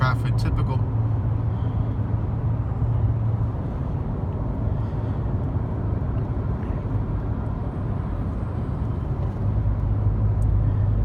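Road traffic in Hialeah, Miami, heard from inside a car as a loud continuous low engine and road rumble with a steady hum throughout, and people talking over it.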